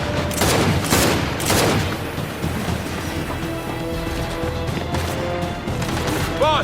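Automatic gunfire and repeated shots in Gears 5 during a fight from a gantry, busy and loud, layered with game music and rumbling machinery of a moving platform.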